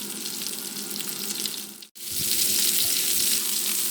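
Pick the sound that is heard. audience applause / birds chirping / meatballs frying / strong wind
meatballs frying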